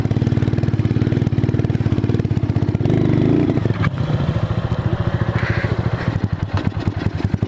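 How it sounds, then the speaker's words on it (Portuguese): A motorcycle engine labours on a rough mountain trail, a loud, close, uneven chugging and clattering that sputters and surges throughout. "A moto não quer ir, galera?"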